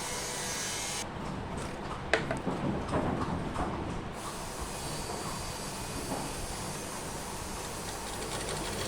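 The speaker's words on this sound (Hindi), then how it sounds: "अब हम इसमें लगाएंगे बीच वाली सिलाई" An electric sewing machine stitches the middle seam of a pair of pants, a steady mechanical whir running throughout with a busier, denser burst of stitching early on; no one speaks.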